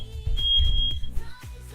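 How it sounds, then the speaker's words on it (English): Fire alarm giving a single sustained high electronic beep, loud and near, lasting under a second before fading into room sound. "Fire alarm."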